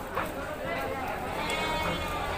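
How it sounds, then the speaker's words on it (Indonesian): Sheep bleat a few times amid a busy livestock market near Padalarang, West Bandung, with crowd noise and people talking over the animals throughout. "Domba-dombanya bagus-bagus, guys."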